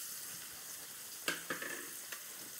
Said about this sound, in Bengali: পেঁয়াজ, রসুন, আদা আমি ভালো করে ভেজে নিয়েছি